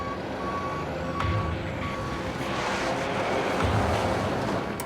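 A heavy truck backing up in boggy dirt, its reversing alarm beeping at a steady repeating pace over a loud, continuous diesel engine rumble.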